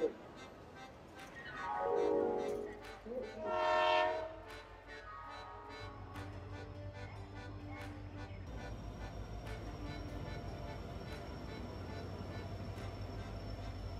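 Howrah–Jagdalpur Sambaleswari Express (18005) departing a platform at night: a loud horn blast and a rising whistle, then a steady rumble of rolling wheels and carriages that grows and continues to the end.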